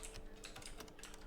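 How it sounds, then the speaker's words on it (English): Rapid keyboard typing of a terminal command inside a detective video game, a quick run of soft, even keystroke clicks repeating throughout the short moment, faint and close, with no talking. "enter the following command in the terminal"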